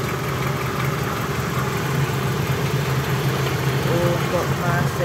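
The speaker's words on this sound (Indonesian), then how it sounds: "Nih, untuk mesin halus banget ya. Mesinnya halus." A used Honda Civic Wonder SB4 engine idles smoothly, giving a steady, even hum with a low mechanical drone and faint hiss that holds without change from start to finish.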